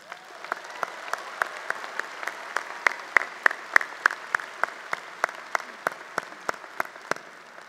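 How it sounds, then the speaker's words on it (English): Sustained crowd applause at a 2018 Northeastern University commencement ceremony honoring faculty and staff, dense steady clapping with a few sharper individual claps standing out, moderately distant and without speech. "Let's give them a big round of applause."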